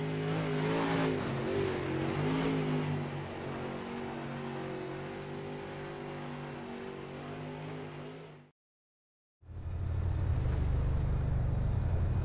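A super late model race car engine drones loud and steady in iRacing at Lanier, holding a sustained pitch before cutting to brief silence, then returning as a deeper, heavier roar.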